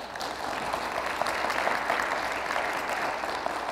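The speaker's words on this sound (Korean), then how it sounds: "여러분 동의하시면 큰 박수 좀 부탁드립니다." An audience at a university lecture and talk concert with a presidential candidate gives even, moderately distant applause, a steady patter of many hands holding at a constant level.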